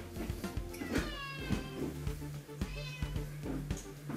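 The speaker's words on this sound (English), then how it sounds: "This is my cat, Runty." A house cat meows repeatedly in a kitchen, close and clear, with several drawn-out calls spaced about a second apart among light knocks and clatter.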